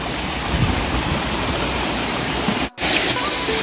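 Waterfall at Gondivanka Jalakanteshwara, a steady broadband roar of falling water heard close and loud, continuous apart from one brief cut near the end.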